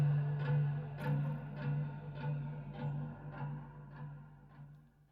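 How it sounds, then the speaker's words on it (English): Twangy plucked tones ring out roughly twice per second over a steady low hum, each pluck trailing into a long, washy reverb tail. "Plucking the rubber bands, springs."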